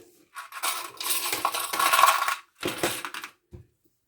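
Small metal clips clink and rattle while being handled during gluing of a green faux leather journal cover, with a long jangling burst followed by a shorter one and a final faint tap, close and fairly loud.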